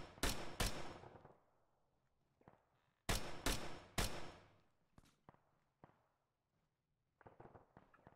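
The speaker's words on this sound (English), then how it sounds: "I've got explosions on the hills and doors." Explosions and gunfire in a military video game, sharp loud blasts in quick pairs with long decaying tails, then fainter scattered shots and a closer burst near the end.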